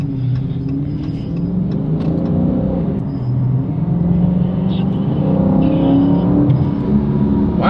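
Dodge Scat Pack engine in sport mode, a steady loud rumble building as it accelerates, with voices talking over the engine noise inside the car.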